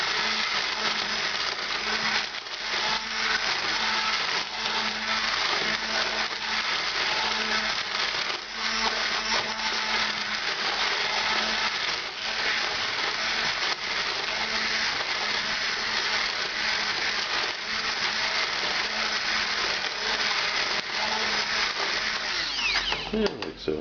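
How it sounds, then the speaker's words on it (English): A stick blender whirs steadily through vindaloo curry sauce, a Portuguese and Goan style dish, held off the heat; the motor drones loudly and continuously for the whole stretch with slight shifts in pitch. "We'll take a stick blender to it,"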